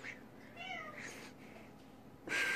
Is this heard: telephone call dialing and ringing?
no